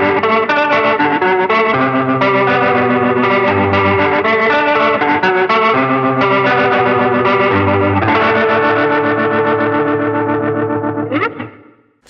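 Electric guitar played through a TC Electronic Vibraclone Leslie rotary speaker pedal, loud and continuous with a swirling, chorus-like warble over sustained chords, ending in a short flourish and a quick fade at the end.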